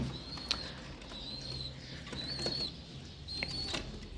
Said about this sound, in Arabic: وكان ده طبعا الحمام